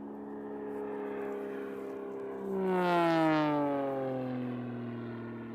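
An aerobatic airplane flies its warm-up figure at the US National Aerobatic Championships, its steady engine drone swelling to a loud, pitch-shifting pass overhead before fading away, with no talk.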